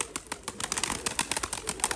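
Rapid bursts of wing flapping from a young pigeon taking off and fluttering nearby, uneven beats spread over two seconds with faint outdoor background.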